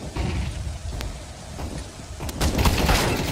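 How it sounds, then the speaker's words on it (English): A flashbang grenade is thrown and goes off in a shooter video game, with a sharp crack near the one-second mark and broad noisy bursts around it amid ongoing gunfire and rumbling effects. "Throwing flashbang."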